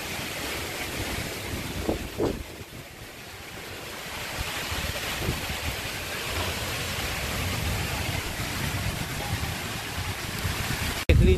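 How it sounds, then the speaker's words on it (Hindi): A strong windstorm blows outdoors in India, a steady loud rushing roar with wind buffeting the microphone and a few thumps as the gusts build, with no voices. "लीजिए दोस्तों बहुत तेज आंधी चल रही है और ये कपड़े वगैरह उड़ रहे हैं।"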